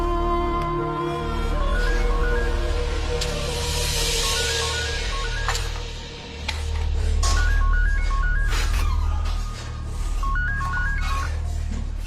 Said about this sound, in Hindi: फोन करके पता कर।